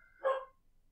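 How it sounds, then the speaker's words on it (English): A single short dog bark, somewhat distant and moderately loud, set against an otherwise quiet room. "Don't mind the dog."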